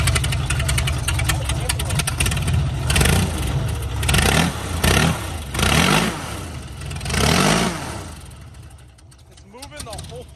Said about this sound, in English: this is actually a plane motor.